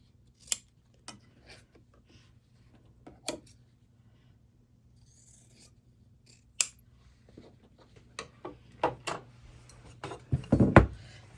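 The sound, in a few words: scissors trimming quilt block fabric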